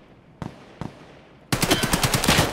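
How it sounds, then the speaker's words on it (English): Gunfire in a video game shooter: two single shots spaced apart, then a loud rapid automatic burst that continues to the end. "He's shooting us in the legs."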